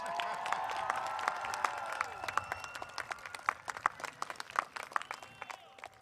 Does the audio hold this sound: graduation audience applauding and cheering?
yes